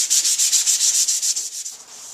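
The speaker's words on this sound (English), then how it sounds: "just take your sandpaper and work the full length of the handle" An axe handle is sanded by hand with 180 grit sandpaper. Quick, close, rhythmic rasping strokes, roughly a dozen, run back and forth along the wood before trailing off.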